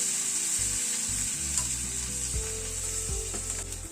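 Garlic and green chillies fry gently in a pan of oil for a light fish curry, giving a close, steady sizzle and crackle with no voices over it.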